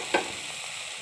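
Tomato and kudampuli frying in oil in a pan: a quick stirring scrape at the start, then a soft, steady sizzle, with no talking.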